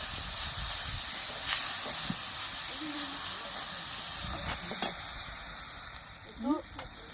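Onion paste sizzles in hot oil while river fish cooks, a continuous close hiss with occasional crackles and utensil knocks, and brief voice or background sounds near the end.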